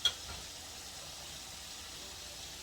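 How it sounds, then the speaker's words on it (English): A soft, steady sizzling hiss continues evenly throughout, faint and unbroken, as Cuban-style pork chunks fry quietly in a hot pan on high heat. "Do you hear how that's frying in there on high?"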